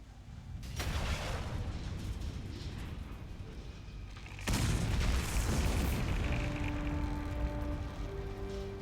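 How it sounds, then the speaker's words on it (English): A large explosion in the Metal Gear Solid: The Twin Snakes video game roars as a loud, sustained rumbling blast, surging again midway and persisting with a low tone underneath. "I always wanted to slow walk away from an explosion."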